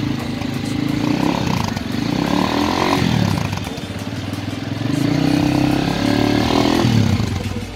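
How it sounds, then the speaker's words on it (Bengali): A Benyco cruiser motorcycle engine runs close by with a rough, throbbing idle that rises and falls in gentle revs over several seconds. "এই হচ্ছে বাইকের সাউন্ড, খুবই অসাধারণ একটা সাউন্ড।"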